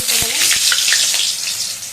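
Marinated chicken fries in hot oil in a pan on a lit clay stove, giving a loud, close, continuous crackling sizzle with a few small pops.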